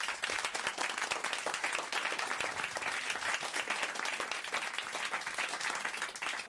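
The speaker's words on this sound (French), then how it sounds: "Bon, je reprends quand même sur des applaudissements." Studio audience applause on a French radio show, steady dense clapping throughout, even and moderately loud with no talk over it.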